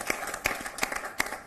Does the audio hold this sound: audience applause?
yes